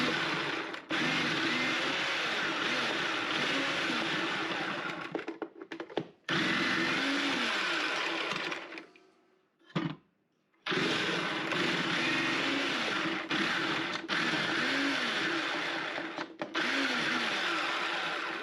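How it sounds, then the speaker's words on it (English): A food processor chopping carrots runs with a loud, steady motor whir and chopping clatter, cutting out briefly twice and then resuming. "And I'll just chop the carrots, well, on the unit already."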